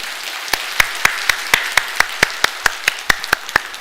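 A small church congregation claps in a steady, even rhythm, sharp distinct claps repeating about four times a second, close and clear.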